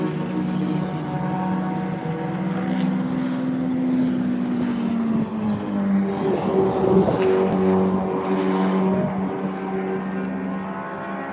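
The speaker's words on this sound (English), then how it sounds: "a 2-litre normally aspirated Fiesta" A 2-litre normally aspirated Ford Fiesta race car drives at a modified Ford series race at Spa, its engine droning steadily and shifting pitch as it accelerates, with other cars blending in at a moderate distance.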